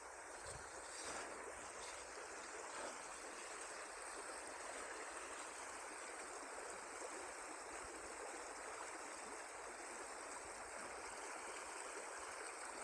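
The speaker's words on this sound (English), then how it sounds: "And the sound of the river, I could just sit and listen to it all day." A river in the Loxley Valley near Sheffield flows with a steady, faint rushing hiss of moving water, continuous and even throughout, with no voices.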